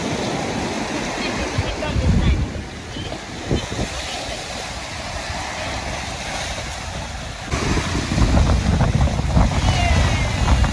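Strong ocean waves surging onto an island beach at a resort in the USA, a loud continuous wash of surf with heavier breaking swells rising toward the end.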